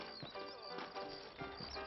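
Horses in the video game Red Dead Redemption, a whinny mixed with clip-clopping hooves in short bursts, close and fairly clear over a low background.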